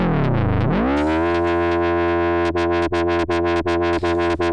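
A Eurorack filter driven by an oscillator has its cutoff swept by a Convulsion Generator module, a loud buzzing synth tone that dips and rises in pitch, then settles into a steady drone chopped by rhythmic pulses.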